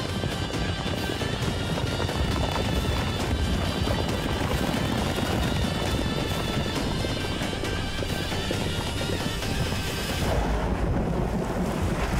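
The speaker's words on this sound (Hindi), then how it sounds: "लगता है ये बारिश और तूफान कभी खत्म नहीं होगा।" Heavy rain and storm noise roar steadily, dense and loud, with wind-like rumble filling the background and no gaps.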